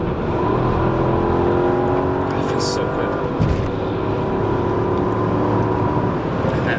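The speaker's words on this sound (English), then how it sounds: "And that V8 sounds amazing." Mercedes-Benz CL500 Sport with its V8 engine cruising at speed, a steady low engine hum and road noise running throughout beneath someone talking.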